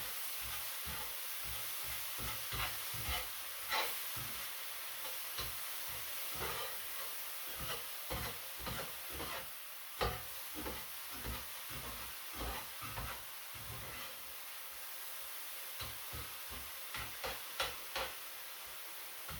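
Cauliflower rice frying in a pan, a steady soft hiss with many small irregular crackles and pops throughout, close but fairly quiet.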